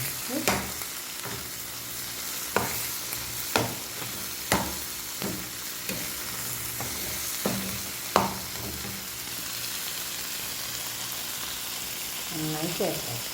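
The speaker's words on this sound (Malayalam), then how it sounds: "ഇതിലേക്ക് നമുക്കൊരു മുട്ട ഇട്ടെടുക്കാം. നന്നായി ചേർത്തെടുക്കാം." A spoon scrapes and taps against a bowl while an egg is stirred into a tuna mixture for a toasted sandwich, giving irregular clinks and sharp knocks over a low steady hum, close and fairly loud.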